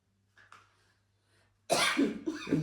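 A person coughs in a quiet indoor room, a couple of soft throat sounds first and then a loud burst of harsh, hacking coughs close to the microphone.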